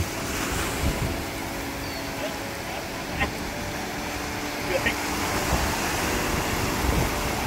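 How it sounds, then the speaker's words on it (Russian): Ocean waves rolling onto the beach at Myrtle Beach, South Carolina, a soft steady surf hiss with wind noise and a few brief louder wave crests, heard at a moderate distance. "И волны красиво наступают."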